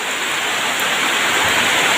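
Heavy rain pours down steadily at a fishing spot, a loud, dense, unbroken hiss of drops hitting surfaces with no voices.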